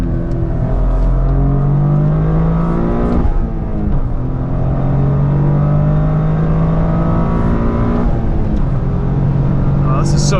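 A 2023 Toyota GR Corolla Circuit Edition's engine drones loud and steady from inside the cabin on a lap of Road America, pitch rising and dipping with shifts, while people talk over it throughout.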